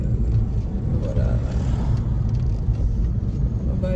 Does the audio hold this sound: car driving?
yes